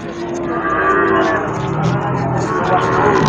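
Goats for sale at an Indonesian livestock market, including Jawa Randu breed, bleat loudly and close in a continuous overlapping chorus amid crowd noise.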